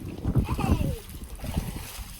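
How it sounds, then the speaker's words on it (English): Children splash in an outdoor backyard swimming pool, irregular water slaps and splatters close by, with children's voices calling out over the splashing. "They're splashing."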